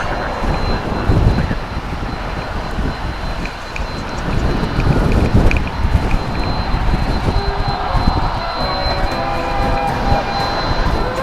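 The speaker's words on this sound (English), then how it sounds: "767 of the UPS variety." UPS Boeing 767 cargo jet at DFW Airport, a sustained rumbling engine roar with gusty wind-like texture, fairly loud and swelling slightly midway, no talking.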